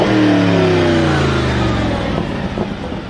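A Mercedes-Benz SLS AMG engine revs loud and close, rising then settling, alone with no talk.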